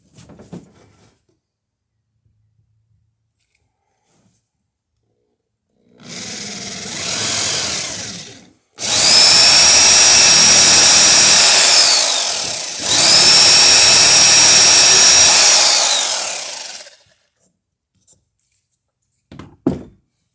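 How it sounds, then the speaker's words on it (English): Loud power drill bursts whine through wood while building a small dory boat, in three runs, the first short and the next two long, with brief pauses and a few clunks between them. "I'll get the drill out and I'll drill that hole before I cut any of these out."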